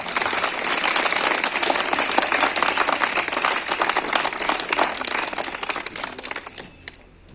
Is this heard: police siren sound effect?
no